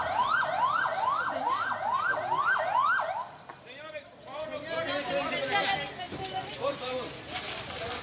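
Sirens of volunteer firefighter ambulances arriving at the hospital in Cobán, Alta Verapaz: a loud, rapid, repeating yelp for about three seconds, then quieter siren sweeps under a crowd's chatter and talk.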